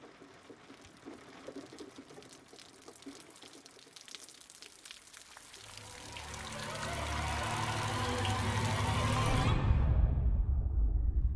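Water surges and rises in the horror game Call of Cthulhu, starting as faint ambient trickling and swelling into a loud, rushing, churning flood that builds over several seconds before cutting off abruptly.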